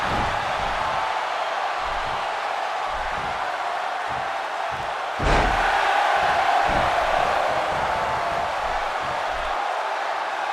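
A steady roar of an arena crowd in the WWE 2K16 wrestling video game, a broad continuous wash of noise that swells slightly midway, with faint low thumps beneath.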